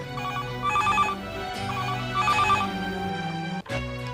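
A telephone ringing indoors, two bursts of a bright electronic trill over a steady, faint background tone, the second ring cut off abruptly near the end.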